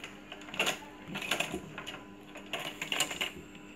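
Sewing machine stitching along the seam of a kameez, quiet rapid mechanical chattering in short irregular bursts with pauses between runs, faint and close, with no talking.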